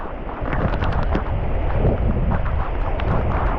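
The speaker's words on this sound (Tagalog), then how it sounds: "yan ang mga hangin po" Strong wind from Typhoon Aghon roars into the microphone in heavy, continuous buffeting gusts, loud and close, with no voices.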